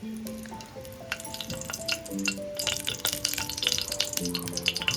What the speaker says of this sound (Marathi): कुकर ठेवला आहे गॅसवरती त्यामध्ये आपण तेल घालून घेणार आहोत छान असं गरम झालंय त्यामध्ये आपण तेजपत्ता घालून घेणार आहोत